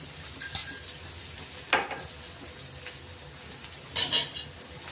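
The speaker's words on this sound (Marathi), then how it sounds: "तो तिखटपणा कमी होणार म्हणून आपण थोडा असं तळून घेणार आहे" Crushed green chili thecha fries in a pan for a spicy Khandesh-style dish. A few sharp clinks and scrapes of a stirring utensil stand out over a faint, steady hiss of frying.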